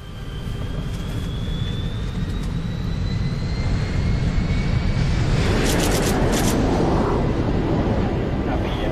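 Northwest Orient flight 305, a jet airliner, taking off from Portland: a loud, steady engine roar fills the whole stretch with a rising whine, heard continuously without a break.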